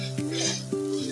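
Potato filling for aloo paratha is stirred in a wok with a little oil, giving a short, close sizzle with soft stirring movements.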